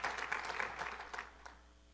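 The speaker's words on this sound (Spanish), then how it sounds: "Ofrendemos al Señor con nuestras palmas a su gloria" A church congregation claps in a short burst of applause that fades out within about a second and a half, leaving quiet room tone.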